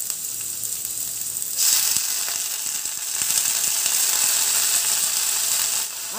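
Potatoes and leafy greens frying in a pan, a bright continuous sizzle that swells louder partway through, with faint clicks and scrapes of stirring close by.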